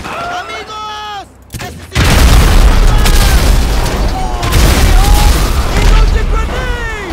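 Grenade explosions in the video game GTA V hit as loud, heavy booms that roll into a sustained rumble of gunfire and blasts, with excited shouting from players over the top.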